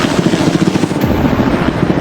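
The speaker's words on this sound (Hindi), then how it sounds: "ये हेलीकॉप्टर हमारे बॉयज को ऊपर हवा में ले जाएगा, जिसके बाद वो एक एक करके समुद्र में कूदेंगे।" A helicopter flying over the sea near a private island, its rotor thumping in a fast, steady pulse, loud and close, with constant engine roar and no talking.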